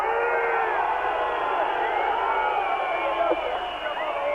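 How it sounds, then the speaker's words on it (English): A partisan rugby league crowd at a New Zealand versus France test match in 1985, a dense roar of many voices jeering and whistling throughout, with a commentator's voice partly underneath. "Crowd's getting a bit upset here."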